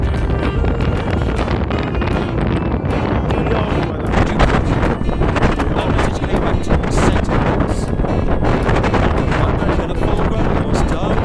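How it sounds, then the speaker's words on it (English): A strong gale roars over a sailboat with its engine failed, running under minimal sail. Loud, constant wind buffets the microphone, with rushing water and waves beneath and a voice partly buried in the noise. "What a gale."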